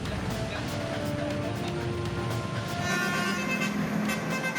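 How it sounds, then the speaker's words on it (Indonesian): An intercity bus sounds its musical telolet horn on a busy city street, a few sustained tonal notes ringing over steady traffic noise, moderately near and loud. "Petugas menegur pengemudi bus antar kota antar provinsi yang kedapatan membunyikan klakson telolet."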